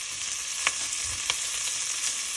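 Garlic sizzles in a pot at the start of a beef stew, a steady bright hiss with two soft clicks of a stirring utensil and a faint low bump midway.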